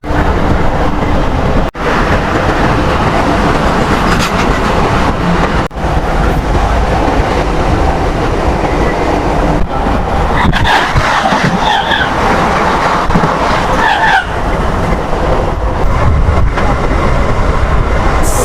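A morning passenger train from Durgapur toward Asansol rumbles loud and steady from inside a carriage, with constant wheel and track roar and a few sharp clunks along the way, without speech.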